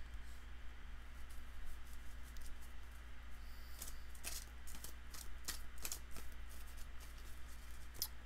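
A deck of Magic: The Gathering cards being shuffled on a table, with quiet ticking riffles and a cluster of sharper card snaps and slaps toward the end, close and fairly faint over a low steady hum.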